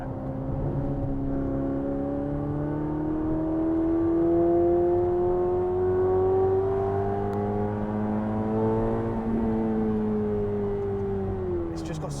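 A Ferrari F8 Tributo with a flat-plane-crank V8 and Novitec exhaust holds a sustained, smooth rev that climbs and falls gradually, heard from some distance as a steady tonal drone without any speech.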